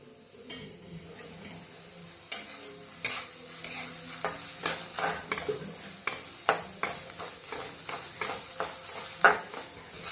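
Washed sesame seeds being dry-roasted and stirred in a pan, a steady series of scraping stir strokes with a faint sizzle, close and fairly quiet with no talking.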